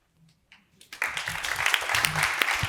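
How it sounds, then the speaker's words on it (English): A panel audience at a streaming media careers event applauds the panelists. After a few faint sounds, dense clapping breaks out and holds steady at moderate volume through the end. "Another big round of applause to our amazing panelists"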